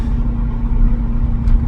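A lowered BMW M5 with a 5.0L V8 and six-speed drives over a rough, frost-heaved road, giving a steady, close, low engine drone with constant road rumble and no talking.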